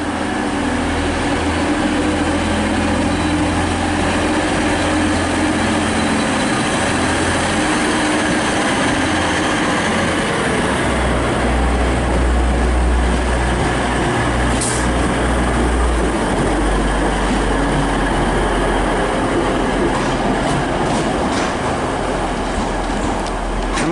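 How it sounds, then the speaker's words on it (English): A Transpennine Express class 185 diesel unit departing Newcastle station, with a loud sustained engine roar and rumble that builds midway, plus a few faint clanks and station noise. "departing now is the 1804 Transpennine Express service to Liverpool Lime Street with"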